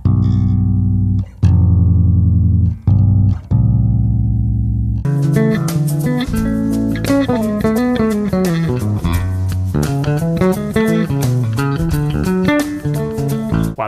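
A jazzy bass guitar solo opens with a few sustained, separated notes, then moves into a fast, smooth, continuous run of plucked lines, loud and close with no talking.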